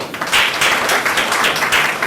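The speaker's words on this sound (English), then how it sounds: "Why don't we clap for ourselves?" Audience at a human resources profession dinner breaks into loud, sustained applause, a dense wash of clapping hands filling the room for a couple of seconds.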